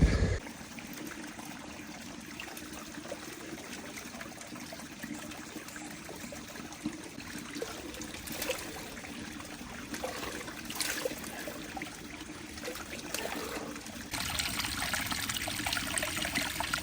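A small stream trickles beside a bush trail on the Crosscut Saw route toward Mt Speculation, a steady, close babble of running water that continues throughout without any voices.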